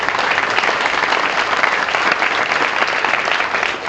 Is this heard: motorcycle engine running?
no